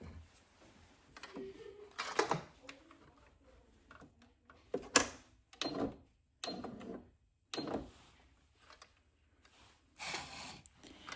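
Sewing machine running a stitch along the edge of fabric binding on a quilted potholder, heard in short bursts of whirring mechanical stitching separated by pauses, close and fairly quiet with no talk.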